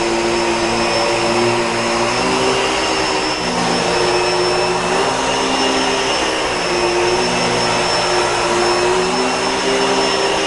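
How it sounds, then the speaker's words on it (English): A Bissell Pet Hair Eraser Turbo vacuum cleaning a rug runs as a steady, loud, close whine with a constant motor drone, alone with no talking. "So we have finished vacuuming this rug with the Pet Hair Eraser Turbo."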